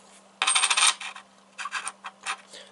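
Soviet commemorative coins drop and jingle together, first as a loud clattering burst, then a few smaller scattered clinks.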